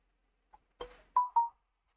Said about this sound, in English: Sorry, my phone is going nuts.